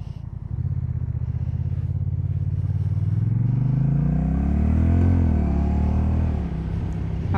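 2021 Honda Rebel 1100 with DCT automatic transmission riding, a steady close engine rumble that rises smoothly in pitch as it accelerates, then eases off without any gear-shift breaks.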